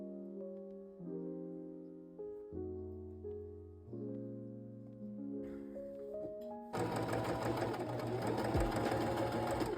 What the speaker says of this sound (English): Align the hem of the main and the lining and sew with 1 centimeter seam allowance